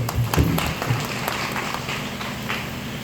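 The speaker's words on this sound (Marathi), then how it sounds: "त्यांच्यासाठी एकदा जोरदार टाळ्या वाजवायच्या" An audience at a community organisation's gathering claps for its office-bearers, a steady burst of applause throughout with a few louder claps at the start.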